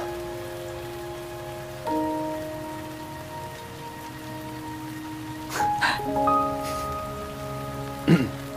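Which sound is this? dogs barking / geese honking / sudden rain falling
sudden rain falling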